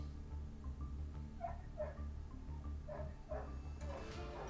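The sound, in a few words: dog barking loudly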